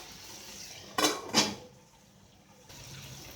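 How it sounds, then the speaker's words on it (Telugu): A lid set onto a pan of frying brinjals gives two quick metallic clanks close together, then the sizzle drops to a muffled hush under the cover. "మూత పెట్టుకుని వేయించుకుందాము"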